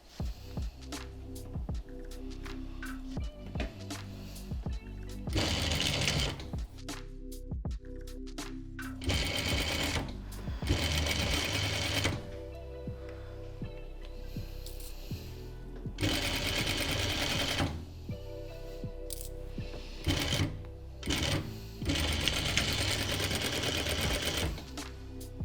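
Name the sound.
sewing machine stitching a homemade face mask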